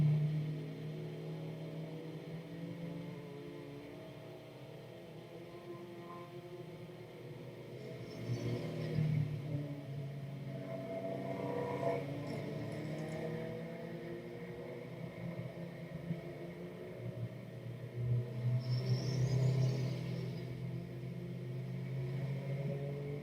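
Porsche 718 GT4 race car at a time attack championship round, heard from onboard with a steady engine drone and rumble that swells as the car brakes and accelerates over a crest, continuous and close throughout.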